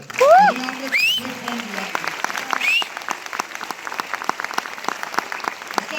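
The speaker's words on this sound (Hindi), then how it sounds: "दिल की गहराइयों से उसके लिए ताली बजा दो।" Audience clapping at a direct selling seminar, a scattered patter of individual claps building after loud opening voices and whistle-like cries, with sharp separate hand strikes continuing through the rest.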